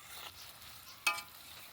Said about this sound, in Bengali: এবারে এই ফুটন্ত রসের মধ্যে আগে থেকে ভেজে রাখা এই মিষ্টিগুলো ছেড়ে দেবো। হালকা আছে নেড়ে চেড়ে ভালো করে একটু মিশিয়ে নেব।